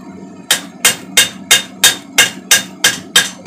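Hammer blows forge a hand-made draw knife: nine loud, ringing metallic strikes land at a steady, even rhythm, close up and alone.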